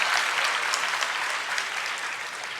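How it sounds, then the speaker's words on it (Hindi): Audience at a spiritual discourse clapping, a dense and steady patter of many hands that fades slightly toward the end, with no speech over it. "ताली ठीक बजा रहे हो"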